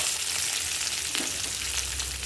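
Sliced onion and green chili dropped into hot oil in a pan while making rava upma, giving a steady, bright sizzle with a brief stirring scrape partway through, close and continuous, no talk.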